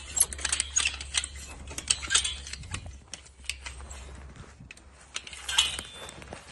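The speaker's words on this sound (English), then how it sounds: "So I'll ratchet it so I can get those two wires right there as close as they can." Ratchet being worked to tighten strands of barbed wire on a ranch fence, giving a run of close metallic clicks and clacks in uneven bursts over a steady low hum, with no talking.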